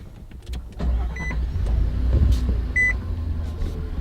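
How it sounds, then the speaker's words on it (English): A truck's engine starting up, a starter whir followed by a low rumbling idle that settles in close by, with a couple of short beeps. "Let's start her up, take a listen."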